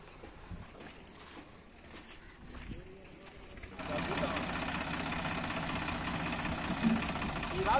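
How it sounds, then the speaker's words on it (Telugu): Tractor engine running steadily as it hauls a load of harvested paddy, a rough mid-low drone that gets noticeably louder and nearer halfway through and then holds at a constant level. "ఫస్ట్ ట్రాక్టర్ లోడ్ అయింది ఇప్పుడు నాన్నోళ్ళు తీసుకొని వస్తున్నారు ఆ లోడ్ని"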